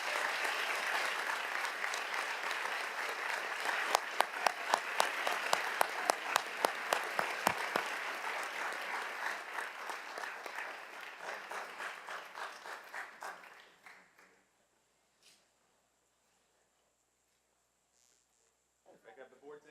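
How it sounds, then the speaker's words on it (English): A school board meeting audience applauds an award recipient during a tenure and retirement recognition. Full, steady clapping runs for about thirteen seconds, then tapers off into near silence, with a faint sound returning at the very end. "a nice round of applause"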